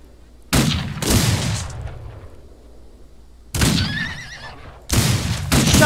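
A horse whinnies shrilly in a video game, surrounded by loud bursts of gunfire before and after, close and intense.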